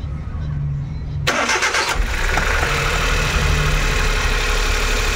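A Suzuki Every Wagon DA64W engine cranks briefly and fires, then settles into a steady, close idle rumble that fills the rest of the moment.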